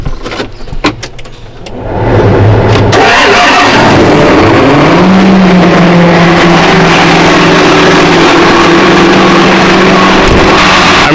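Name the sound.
two tractor engines started up and warming up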